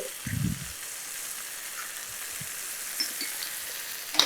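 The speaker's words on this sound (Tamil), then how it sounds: "இது நல்லா ஹை ஃப்ளேம்லேயே வச்சு நீங்கள் இதை குக் பண்ணி எடுத்துருங்க" Chicken pakoda with ginger garlic paste fries on a high flame, giving a faint, steady sizzle with a few soft knocks from stirring, close by, with no talking.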